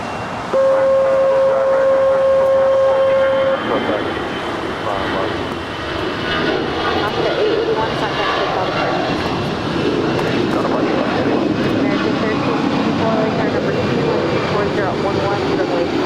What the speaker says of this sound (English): Alaska Airlines and at A320 heading to Seattle, flight 881, now rolling down 25 right